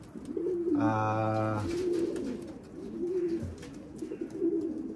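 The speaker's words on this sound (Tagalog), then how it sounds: "She's a good pigeon." A pet pigeon coos in a low, throaty burst, the repeated soft calls close by with faint background noise and a few murmured voices around it.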